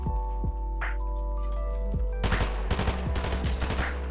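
Gunfire in the Fortnite video game: a few single shots early on, then a dense rapid burst of repeated shots over a steady background game drone.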